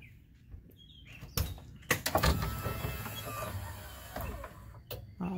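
Lippert Kwikee electric RV steps, recently greased, extend open with a whirring motor grind, sharp mechanical clunks and clicks as the step unfolds, close by with no talk.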